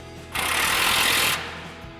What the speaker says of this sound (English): the 16mm socket on our impact and go ahead and tighten these down